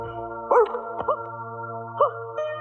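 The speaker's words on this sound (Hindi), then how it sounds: "कुत्ता इधर इधर" A dog in a film scene gives a few sharp barks and yips, up close and loud, spaced apart over a steady tonal background hum.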